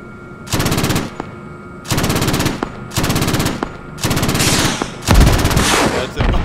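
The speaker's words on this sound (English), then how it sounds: "also a minigun on the left side." A minigun in the video game Squad fires in five loud, sustained bursts, each lasting roughly half a second to a second, separated by short pauses, with the last burst blending into a booming impact.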